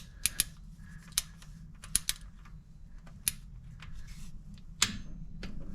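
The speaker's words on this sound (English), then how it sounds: "I have my torque wrench set to 15 foot-pounds." A torque wrench is set to 15 foot-pounds to tighten a bolt during a timing belt change on a Suzuki Carry F6A SOHC engine, giving scattered sharp metallic ratchet clicks, close and fairly quiet over a low background hum.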